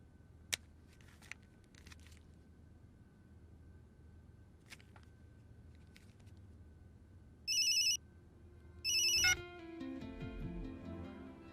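Two short electronic telephone rings chirp in a quiet room, each about half a second long with a pause between them, after a few soft clicks and ahead of a low musical swell.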